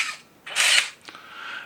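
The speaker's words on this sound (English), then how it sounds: "when I press the button, it will take one picture and wind on" A Canon Motor Drive MA fires the shutter and winds on the film: a soft click, then one loud whirring wind burst, followed by a fainter mechanical tail, heard close up.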